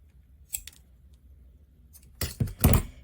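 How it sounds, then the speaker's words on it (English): Scissors snip excess cord from a knot on a model horse roping bridle, a light cut followed by a couple of quick louder close snips. "I'll trim off any of this excess coming out from the knot."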